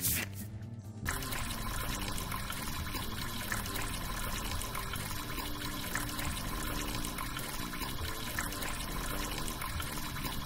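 Water from a garden hose splashes and rushes steadily in a point-and-click adventure game, a continuous hiss of spray that runs without a break over the game's background sound.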